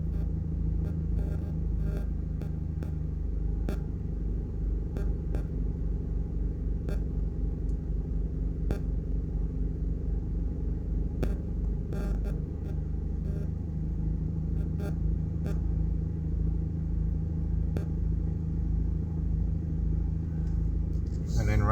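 Cars rumble past on a single-lane stretch of a coastal highway under construction in southern Jamaica, a steady low engine drone with occasional sharp clatters, continuous and fairly close.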